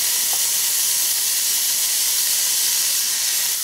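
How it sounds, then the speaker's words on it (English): Steady, loud sizzling hiss of seasoned steaks searing on a hot Ninja Foodi indoor grill, continuous and close without any voices. "Hear that sizzle?"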